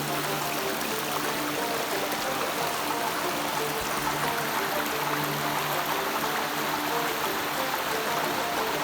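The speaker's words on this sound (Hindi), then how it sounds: "बहुत ही सुंदर नज़ारा है यहाँ पे, वाटरफॉल।" A forest waterfall on a village stream in Baloda Bazar district, Chhattisgarh, rushes and splashes as a steady, loud broadband wash of water with no break throughout.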